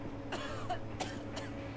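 Woman coughing in the video game Metro Exodus, three harsh close coughs spaced about half a second apart over a low steady background hum.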